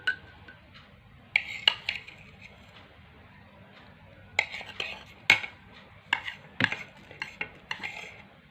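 A spoon stirs salt into a glass of water, giving sharp metallic clinks against the glass in irregular bursts with quiet gaps between them.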